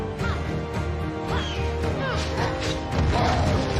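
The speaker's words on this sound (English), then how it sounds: "Smashing the ground is also one of his favorite attacks." Heavy smashing impacts from a boss pounding the ground in an Ubisoft action video game, repeated crashes and thuds layered over a dense, loud game soundtrack with bird-like calls and effects throughout.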